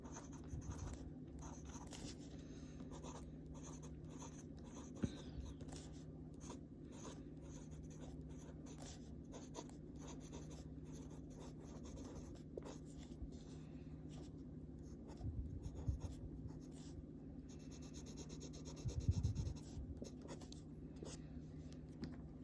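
A Lamy steel medium nib fountain pen filled with Iroshizuku Yama-Guri ink scratches softly across paper in short intermittent strokes, close and faint over a low background hum.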